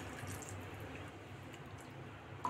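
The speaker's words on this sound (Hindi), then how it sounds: "थोड़ा सा पानी और हम डाल देंगे" Water poured from a vessel into a pan of masala bhindi (okra) in a home kitchen, a steady soft splashing and trickle running continuously close by for a couple of seconds, alone without any talk.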